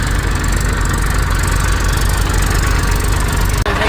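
An Eicher Super Power 380 44 hp diesel tractor runs a thresher at a steady, unchanging pace, giving a loud, continuous engine drone with constant knocking and vibration that cuts off abruptly near the end.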